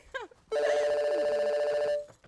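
A telephone rings once in a single bright, sustained electronic trill, close and clear, after a brief voice just before it.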